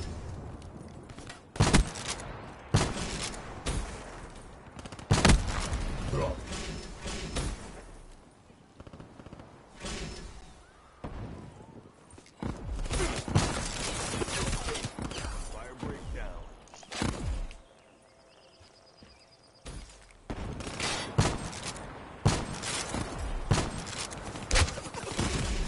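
Rapid bursts of gunfire and thudding impacts in a Call of Duty match, sharp transients clustered in volleys with brief lulls, mixed under game chatter and voices.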